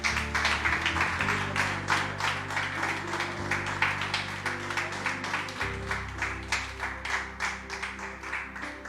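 Church congregation applauding in steady rhythmic unison claps, moderately loud, over sustained low organ or keyboard chords.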